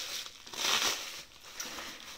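Crinkling plastic parcel bag being unpacked, a soft rustle that swells for a moment and then settles into quieter crackles, close and alone.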